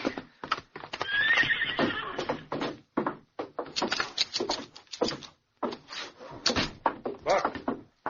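A horse neighs loudly up close while its hooves clip-clop around a wooden door slam, in a Western scene on a trail near Austin. The sounds come in bursts over about eight seconds.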